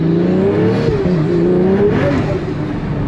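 Loud in-cabin engine drone of a Pagani Utopia supercar under steady acceleration, the pitch rising and dipping through gear shifts, sustained and close with no voices.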